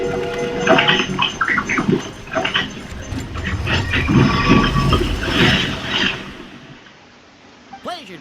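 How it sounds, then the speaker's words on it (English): A video-game train pulls in toward Constellation Metropole: a loud, dense rumble layered with squealing, whistle-like tones that builds and pulses for about six seconds, then cuts away to near quiet before a short rising chirp at the end. "Here comes the train."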